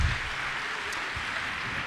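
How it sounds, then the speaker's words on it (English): Audience applause at a theatre camp show of Willy Wonka Jr., a steady, dense wash of clapping that fills the room evenly from start to finish with no voices over it. "give them a round of applause"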